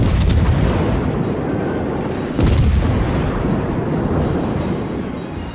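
The ARP Takao fires its main guns in a World of Warships naval battle, with two heavy booming salvos rumbling loudly against continuous engine and sea noise.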